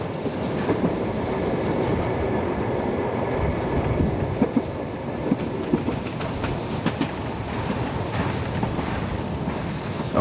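An LGB train rolls past the Silberhütte stop on a trip toward Quedlinburg. It makes a continuous, dense rumble with faint rhythmic clatter that stays even throughout, with no voices.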